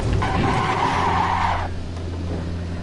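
Tyres screech in a sustained skid as a car drifts in the Assetto Corsa racing game, the engine droning steadily underneath; the squeal cuts off after about a second and a half, leaving the engine running on alone.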